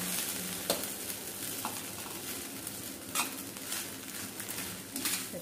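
Fried rice crackles and sizzles on high flame while being stirred, with a continuous close hiss and repeated soft scraping strokes of a spoon against the pan.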